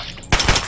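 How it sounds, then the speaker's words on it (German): A rapid burst of several loud gunshots in Fallout 3 fires in quick succession after a brief quiet lead-in. "Und nochmal zwei Schüsse"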